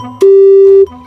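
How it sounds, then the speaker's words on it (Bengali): A single steady electronic phone tone sounds for about half a second, loud and close, when a call fails to connect because the other phone is switched off. "ফোন ধরে না, ফোন বন্ধ ভাইকে।"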